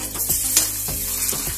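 Onion with ginger garlic paste sizzling steadily in hot oil in a pan for a brinjal curry, a continuous close crackle with soft stirring scrapes and no voices.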